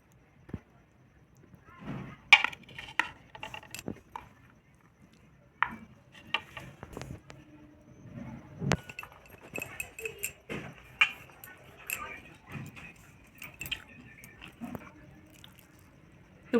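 Someone eating home-cooked chicken kosha with jeera fried rice, giving scattered close clicks, chewing and utensil taps across a quiet room, with sporadic bursts of activity.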